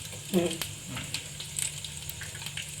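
Grated coconut frying in hot oil after cumin seeds, a soft steady sizzle with a few brief clatters of stirring, close and moderately quiet.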